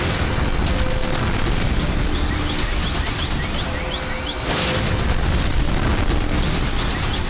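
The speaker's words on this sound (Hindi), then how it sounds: "चमक के साथ जोरदार धमाका हुआ" A blast from a Houthi drone striking a Tel Aviv street at night, picked up by a nearby CCTV camera: a dense, loud, continuous roar and crackle that holds steady throughout, with a brief dip midway.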